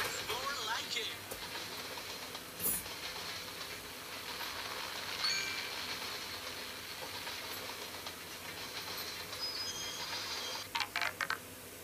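A train passes close by during a train stunt, filling the scene with a steady, loud broadband rumble and hiss that holds throughout, with a few sharp knocks near the end and voices faintly underneath.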